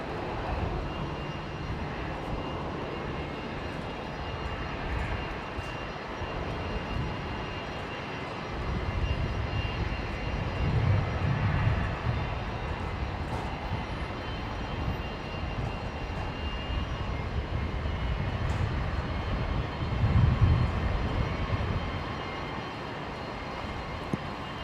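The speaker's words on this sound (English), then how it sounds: "The Air New Guinea, the special livery 737 is taxiing out." An Air Niugini special livery Boeing 737 taxis at Brisbane Airport, giving a steady, distant jet engine rumble that swells noticeably twice amid open outdoor air, with no talking.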